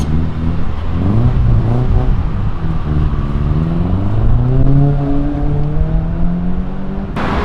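A car drifting at a Euroday car meet, its engine revving hard with rising and falling pitch sweeps, loud and close throughout, with no talk over it.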